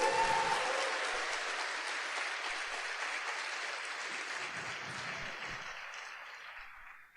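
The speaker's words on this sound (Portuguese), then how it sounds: "Dê uma salva de palmas para ele." Sustained applause from a church congregation during a Mass homily, a dense, steady wash of clapping that fills the space and slowly tapers away toward the end.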